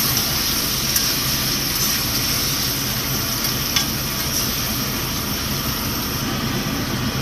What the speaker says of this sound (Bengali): এখন আমি খাসির মাংসটা দিয়ে দিব বেরেস্তার মধ্যে। বেরেস্তার সাথে তেলে একটু ভেজে নিব।